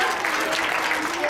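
A school Republic Day celebration audience applauds to welcome a young performer to the stage, dense steady clapping from a crowd that fills the whole moment at a fairly loud level.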